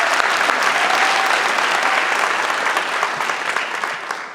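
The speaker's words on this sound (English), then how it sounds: "That's good, it's worth clapping." A crowd at a health system state-of-the-system address claps in a loud, sustained wash of applause that tapers off near the end.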